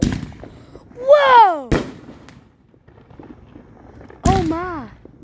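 Fourth of July fireworks burst in two sharp, loud bangs a few seconds apart, each set off by excited voices exclaiming in surprise.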